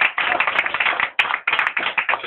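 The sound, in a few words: congregation clapping in church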